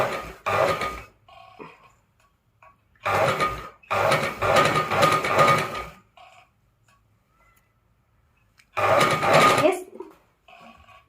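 Electric sewing machine stitching thread piping a quarter inch from the edge of a square neckline, running in several loud bursts of rapid whirring with short quiet gaps between them.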